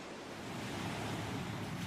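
Ocean waves wash onto a New Jersey beach in a continuous soft roar of surf, distant and fairly quiet, with faint wind and no voices.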